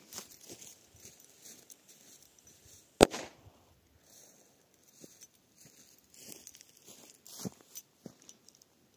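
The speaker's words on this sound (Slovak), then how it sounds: "Poďme na petardu Pirát." A Pirát firecracker goes off beneath a tablet with one sharp, muffled bang, followed by scattered light clatters and patters of debris and quiet movement.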